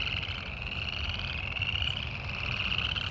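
A dense chorus of frogs croaking on a nature walk, a steady loud pulsing trill that fills the whole stretch without pause, close and continuous.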